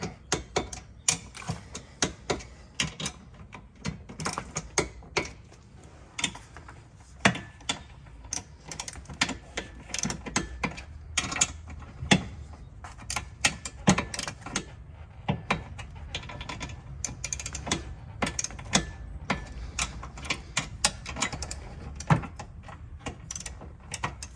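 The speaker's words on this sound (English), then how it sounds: "we got our torque wrench set to 28 foot-pounds, so we're going to put these diagonally" A torque wrench set to 28 foot-pounds tightens hitch mount bolts for a Solis hitch mount reinforcement. Close, rapid ratcheting clicks come in steady runs, broken by short pauses, with no talking.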